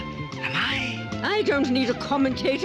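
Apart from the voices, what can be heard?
cat meowing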